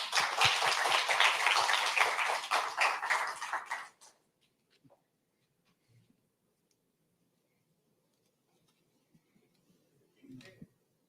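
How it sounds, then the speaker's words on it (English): Audience applause at an opening celebration event, a loud burst of clapping for about four seconds that cuts off abruptly, followed by near silence with a few faint knocks. "let's give a round of applause for ourselves for being present"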